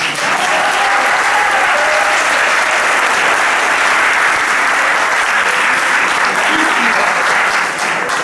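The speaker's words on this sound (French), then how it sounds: "On applaudit Annabella." A physics show audience applauds a young woman volunteer, a dense, loud and steady roar of clapping from many hands that lasts throughout.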